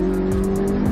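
A Honda AP1 street racing car holds a loud, steady engine note with a sustained tire squeal, close and alone for under a second.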